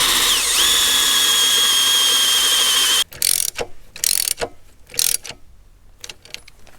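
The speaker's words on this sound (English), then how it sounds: "we will drill for the front legs here" A power drill whines steadily into metal while drilling front leg holes for a Cat RD-6 bulldozer support, then stops, followed by a series of short bursts and clicks of the drill ratcheting.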